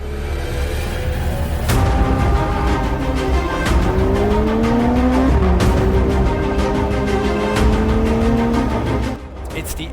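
A Porsche 911 GT3 race car's engine roars loudly as it drives past, with rising and falling pitch sweeps through gear changes and a brief tire squeal.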